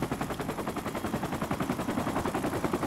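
Rapid, sustained automatic fire from an LMG machine gun in a first-person shooter video game, a dense unbroken burst of evenly spaced shots lasting a few seconds.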